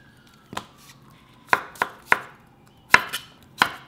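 Knife cutting a cucumber lengthwise on a cutting board, with several crisp separate chops at an uneven pace, close and clear, with no talking.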